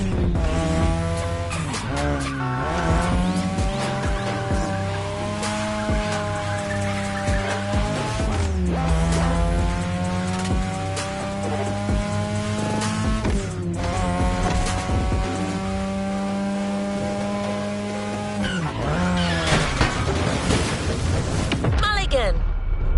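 A race car in the video game The Crew revs loudly with rising and falling engine tones through gear changes, and tires squeal and skid on the turns, with the engine roaring steadily throughout.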